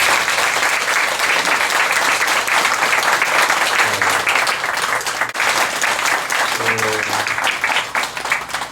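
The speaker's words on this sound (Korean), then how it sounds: "박수 부탁드리겠습니다." Sustained applause from an audience gathered at a Buddhist meditation centre's eighth-anniversary dharma service, dense and steady throughout, with a brief low voice murmuring beneath the clapping near the end.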